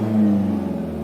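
A car engine hums steadily at idle or a light rev, a close, continuous drone held for about a second with no other sound.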